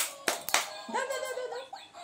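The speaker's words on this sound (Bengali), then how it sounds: "হাততালি দাও, হাততালি দাও, হাততালি দাও, হাততালি দাও" Two sharp hand claps from children ring out close together near the start, followed by a young voice speaking or singing.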